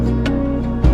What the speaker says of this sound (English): After that, I added this rim sound.